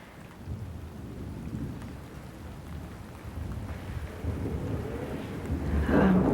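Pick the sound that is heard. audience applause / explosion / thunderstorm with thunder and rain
thunderstorm with thunder and rain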